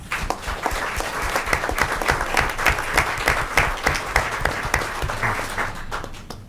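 Audience at a school board of education meeting applauds third graders, a loud, dense burst of clapping with crisp individual claps standing out, fading slightly at the end.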